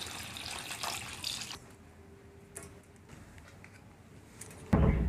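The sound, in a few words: running cold tap water for peeling boiled duck eggs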